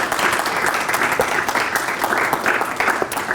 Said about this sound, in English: I'd like to give them an opportunity to applaud you right now